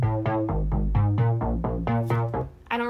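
Melody run through a compressor plugin in a music production: a sequence of evenly spaced, punchy tonal notes with steady level, a brief dip near the end before one last note.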